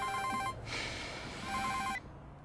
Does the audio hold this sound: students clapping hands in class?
no